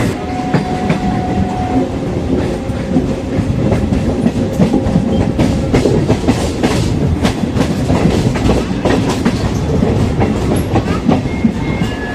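A MEMU passenger train rumbles along the rails near Bengaluru with a steady clickety-clack, loud and close throughout, with no voices.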